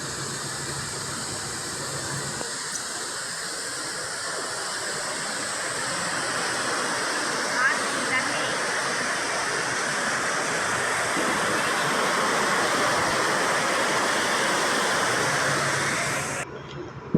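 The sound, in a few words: waterfall at Courtallam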